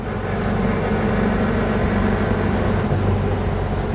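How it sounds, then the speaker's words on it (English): A 1965 VW Bus drives along with a loud, steady drone from its noisy gearbox and transaxle, a continuous low mechanical hum and whine blending with engine and road noise inside the cabin. "That gearbox makes a lot of noise."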